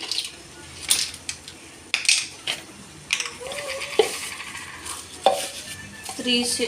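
Small spoons from a Meesho kitchen set clink and rattle as they are handled, sharp metallic taps and jingles scattered irregularly over a quiet room background.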